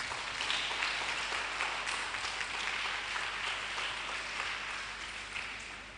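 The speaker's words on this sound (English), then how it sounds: "Let's give them a round of applause" An audience at a Day of the African Child roadshow applauds the panelists with steady, even clapping that holds at a soft, distant level throughout, with no talking over it.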